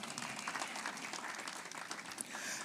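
Audience applause at an education ministry celebration of career and technical education month: a dense, continuous wash of many hands clapping together, even and sustained, at moderate volume throughout.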